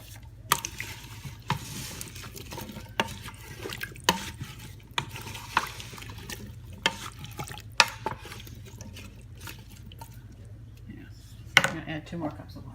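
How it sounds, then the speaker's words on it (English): Water splashes and pours steadily into a Carey pressure cooker pot of beef and vegetable soup, with scattered clinks and knocks of kitchenware over a low background hum. "I'm going to add 2 more cups of water."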